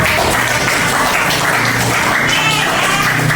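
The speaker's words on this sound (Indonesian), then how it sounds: "Tepuk tangan." Classroom of students clapping together in a sustained, dense burst of applause, loud and even throughout with no clear pauses.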